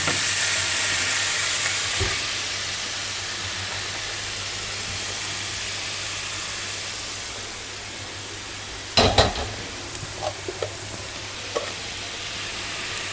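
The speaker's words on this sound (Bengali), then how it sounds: "দু মিনিট নাড়াচাড়া করে নেব" Bottle gourd stirred in a pan over heat, a steady soft sizzle and hiss running throughout, with a few louder scraping clatters of the spatula near the end.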